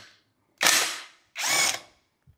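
A Bosch GDS 18V-350 cordless impact wrench loosens a nut on a bolt held in a plate, firing two loud, close hammering bursts of under a second each, separated by a short pause.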